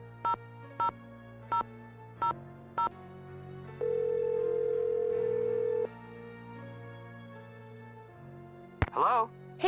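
Telephone sounds from the Nancy Drew game The Haunted Carousel: five short dial beeps, then a long steady tone, a lower hum, and a brief clatter near the end.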